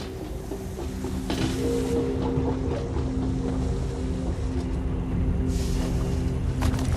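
Steady mechanical hum from a compressor-like machine in Clockwork City, the clockwork realm of The Elder Scrolls Online, with constant low tones running continuously under a wash of airy background noise.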